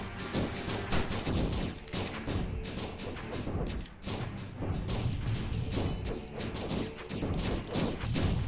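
Grenade explosions and gunfire in the video game Rencia make a dense, continuous barrage of booming blasts and rapid shots, loud and unbroken throughout, with no talk.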